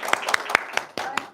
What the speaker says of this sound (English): So give applause for all of us.